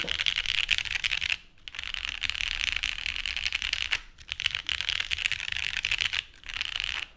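Typing on a Paper 80 mechanical keyboard, bursts of rapid clacky keystrokes close to the mic, broken by two short pauses, with no voices.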